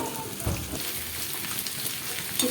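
Pieces of raw plantain fry in hot oil, giving a close, continuous crackling sizzle with a soft thump as more pieces drop in.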